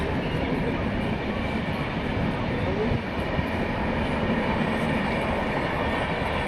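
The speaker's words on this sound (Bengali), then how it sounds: "উপর দিয়ে ট্রেন যাচ্ছে" A loud, continuous rumble of a train rolling past overhead on a bridge above the Kangsabati River, steady and roaring throughout with faint rhythmic rattling.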